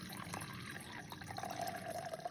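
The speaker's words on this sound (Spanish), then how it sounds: "Se agrega agua" Water is poured into a container in a kitchen, a steady close splashing that turns into a rising filling tone in the second half.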